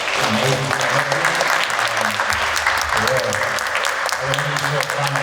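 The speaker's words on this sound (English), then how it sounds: "Can we just give a round of applause for our amazing celebrity?" An audience applauds a celebrity guest at the close of a live Q&A event. Dense, steady clapping fills the room throughout, with voices murmuring and calling out underneath.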